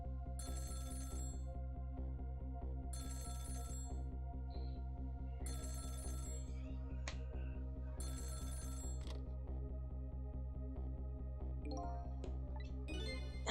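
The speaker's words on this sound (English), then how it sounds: "the phone rang." A telephone rings in the video game Ghost Trick, four repeated electronic bursts in a steady ring-pause rhythm over a constant droning game soundtrack, with a few brief chimes near the end.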